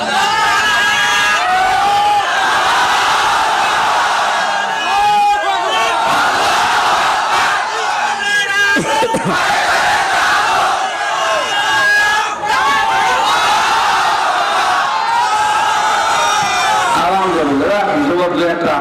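A large crowd at a religious gathering roars in unison with a chanted takbir, loud massed voices rising in waves and swelling repeatedly, with a lead voice and general crowd noise mixed throughout.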